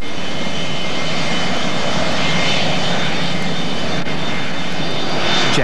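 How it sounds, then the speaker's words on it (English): A loud, steady roar of jet airliner engines, broadband and continuous, with a faint high whine running through it and no voices. "Jet noise. It can make life a misery for anyone who lives near an airport"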